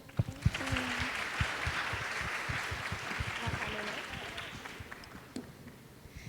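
An audience at a university open house applauds the current students, a sustained round of clapping with some voices over it, fading out after a few seconds.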